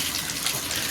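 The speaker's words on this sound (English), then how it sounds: "I'm going to try and talk a little louder because my shower's loud" A loud shower gushing water into a bathtub while aquarium tank decorations are rinsed under it, a continuous close hiss of spray with no pauses and no voices.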